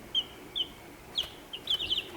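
Rhode Island Red chickens and turkeys cluck in a small flock, giving a handful of short, faint, high clucks and chirps spaced irregularly over quiet background.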